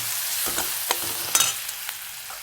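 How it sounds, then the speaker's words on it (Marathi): Minced garlic and green chili frying in hot oil with cumin seeds, a steady close sizzle with light scrapes and taps of a stirring spoon breaking through, no voices. "आणि आपण बारीक केलेले लसूण आणि हिरवी मिरची चांगली परतून घेऊया."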